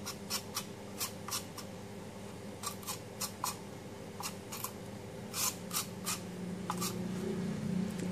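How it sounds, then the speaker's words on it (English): A knife cuts lotus root into thin slices, giving a run of short, crisp strokes in uneven groups, some close together and others spaced apart, over a steady low hum with no talking. "The lotus root is cut into thin slices."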